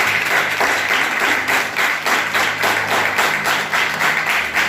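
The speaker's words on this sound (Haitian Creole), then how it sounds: "Toute l'église applaudit, s'il vous plaît." A church congregation applauds, a steady dense wash of clapping from many hands that keeps an even pulse throughout, with no voices over it.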